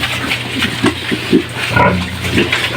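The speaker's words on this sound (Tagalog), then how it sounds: "Ito po yung aking mga alagang" Several pigs grunt and snort close by in short, irregular bursts, with some squealing mixed in over a low background hum.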